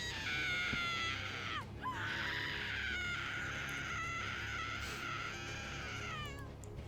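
Shrill, sustained scream from Saga, a female survivor in the horror game Dead by Daylight, with a sharp break partway through before the cry resumes and trails off, heard alone and loud.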